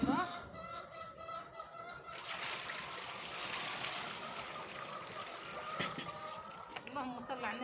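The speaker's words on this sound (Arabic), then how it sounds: "اول حاجه هنعملها هنبدا نغسل الطماطم بتاعتنا" Tomatoes being washed under a running tap for homemade sauce, a steady splashing and trickling stream of water that runs throughout, with louder splashes near the start and end.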